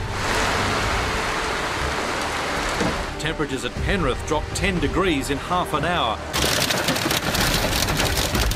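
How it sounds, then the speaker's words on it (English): Heavy pelting rain pounds down during an afternoon thunderstorm in Sydney, a loud dense continuous roar that drops back while a voice talks over it mid-clip, then surges again at full force. "another afternoon blast of pelting rain"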